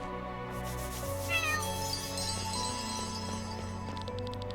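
A cat meows clearly in the fantasy video game Chained Echoes, a short plaintive call over steady in-game background music, with no talking.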